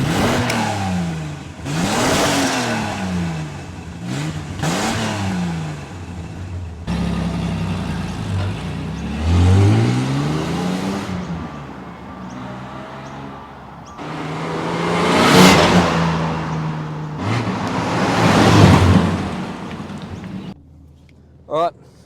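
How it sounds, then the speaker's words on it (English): Ford Falcon fitted with a Redback exhaust, starting from cold and warming up: a loud crank and catch, repeated revving swells rising and falling, and a steady idle rumble between blips, ending with a brief quiet gap. "All right, starting with a complete cold start. Fairly quiet, very quiet."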